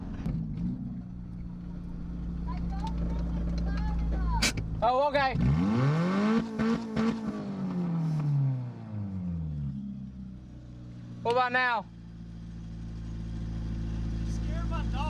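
A car engine idles, then revs hard with rising and falling roars a couple of times, loud and close, while people talk briefly.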